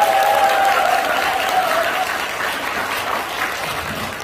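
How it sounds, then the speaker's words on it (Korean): A lecture audience claps loudly and steadily in a seminar hall, a thick continuous roar of hands that holds at an even level throughout. "나 자신의 성공을 위해서 크게 박수 한번 치고 시작하도록 하겠습니다."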